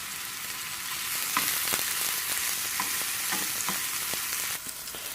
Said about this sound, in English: we're going to fry off the onions and garlic now